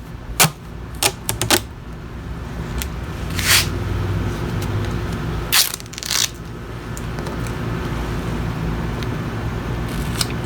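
Duct tape is pulled off the roll in several loud, ripping bursts and torn, with quieter crinkling handling in between, close up during work on a Toyota Camry V6.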